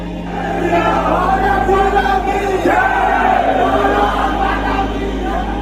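A crowd of Hindu activists leaving a theatre chanting Jai Shri Ram, a loud mass of shouting voices rising and falling in waves over a constant low hum.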